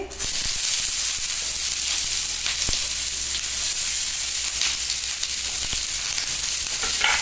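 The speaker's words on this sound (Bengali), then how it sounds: "পেঁয়াজটা একটু হালকা ভেজে নিচ্ছি" Onion frying in hot oil for poha made with flattened rice, a loud, close, continuous sizzle and hiss with occasional sharp crackles and stirring scrapes, no voices.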